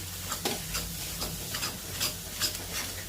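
Masala with Kashmiri red chilli being mixed in a pan, heard as soft scraping strokes at a steady, uneven rhythm over a faint sizzle, close but quiet and without talking.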